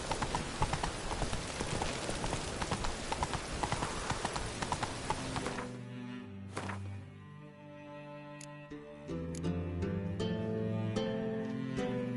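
Roach, the horse in The Witcher 3, clip-clops steadily in a close, regular hoof rhythm, first under a dense wash of game noise and then more clearly against quieter tonal music.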